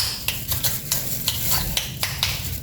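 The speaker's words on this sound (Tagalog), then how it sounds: "Imimix ko lang po siya." A utensil stirs salted vegetables in a cooking pan, with rhythmic scraping strokes roughly every quarter second over a soft sizzle, close and clear with no talk.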